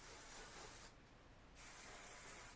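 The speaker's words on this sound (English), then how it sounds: "I also wanted to spray them down with a little bit of hairspray, and this is just a Garnier Fructis one." Garnier Fructis hairspray hisses onto hair in two close, steady bursts separated by a short pause, each a smooth continuous spray.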